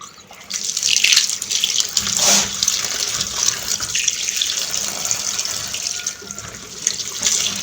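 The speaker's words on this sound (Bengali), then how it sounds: "এগুলো ভালো করে পরিষ্কার করে ধুয়ে নেব" Flat beans are washed by hand under a running kitchen tap, a steady close splashing of water with shifting gurgles as the beans are rubbed and turned, with no talking.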